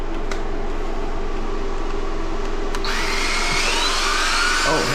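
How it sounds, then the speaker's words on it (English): Power sander grinding old paint off a house built in 1890, a steady loud motor whine that shifts into a harsher, scraping tone as it bites into the surface. "let's get to sanding"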